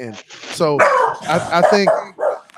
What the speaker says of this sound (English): That was my dog, my little Frenchie barking.